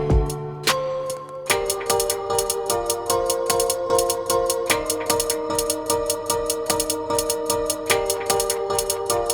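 A kitchen-made drum loop run through a filtered ping-pong delay, its clicky percussive hits repeating in a steady, busy rhythm with trailing echoes over a sustained tonal bed, loud and alone with no speech.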